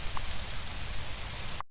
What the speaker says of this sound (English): I love the rain. Look at the rain, guys.